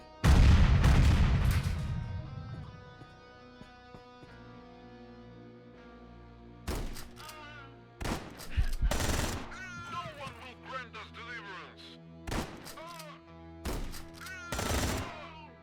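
Automated turret gunfire in the sci-fi video game Quasimorph: a loud opening burst of shots, then scattered sharp bursts and single reports after a quiet stretch, with a brief voice at times.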